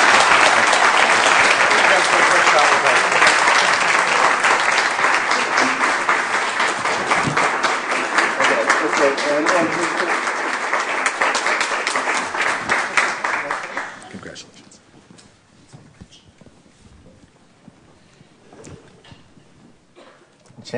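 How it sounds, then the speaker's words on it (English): A large audience claps loudly and steadily for several seconds, then the applause thins out and fades to scattered claps. "Please join me in a round of applause."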